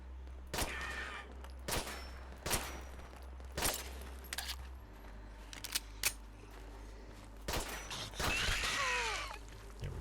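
Repeated gunshots ring out in Fallout 4, sharp bursts spaced about a second apart, some louder and closer than others, with a rising electronic whine near the end and no talking.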